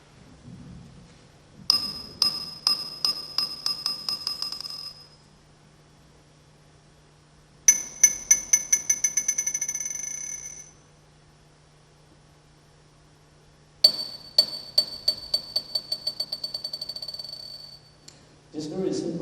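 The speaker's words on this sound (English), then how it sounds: "These very simple sounds result from the very first physical modeling simulation we done in 1979." Very simple synthesized tones from one of the first physical modeling simulations, made in 1979: three bursts of rapidly repeating bright metallic pings that slow and decay, separated by a steady low hum, ending with a short noisy rumble.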